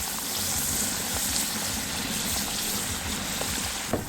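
Homemade kettle potato chip slices drop into a pan of hot frying oil, setting off a loud, dense, steady sizzle and bubbling hiss that holds throughout with a small splash near the end, and no voices.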